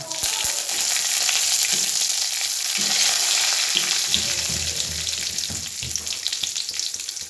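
Curry leaves crackling in hot oil in a pan while making jackfruit seed thoran, a dense, loud, continuous sizzle with a few spatters and light stirring knocks, close up with no talk.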